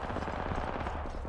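Rapid gunfire rattles in an Apex Legends match, a short quick burst of shots at close range with a busy game background.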